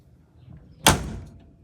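The cab door of a YuMZ tractor, just repaired, swings shut with a single close, loud slam, followed by a short rattling decay over faint background noise.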